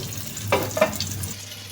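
Eggplant fry is flipped in a hot pan, with a constant low sizzle and two quick scraping clatters as the pieces are turned.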